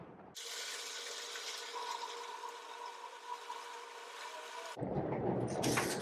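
Steady rain hisses as an even, dense wash of background noise, heard alone with no talk, then cuts off abruptly.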